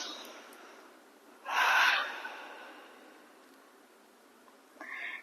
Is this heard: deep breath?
yes